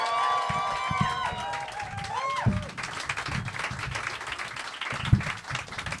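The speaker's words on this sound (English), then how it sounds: "Put a huge round of applause and welcome Dr." A live audience applauds and cheers to welcome a speaker at a talk event. The clapping is steady and continuous across the moment, with tonal sounds and voices mixed into the crowd noise.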